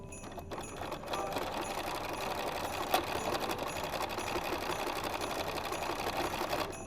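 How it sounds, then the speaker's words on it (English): A sewing machine stitches back and forth on a mini quilt, its fast steady mechanical whir running close and continuous, with a brief click partway through and no talking. "I'm just going to sew back and forth a couple of times"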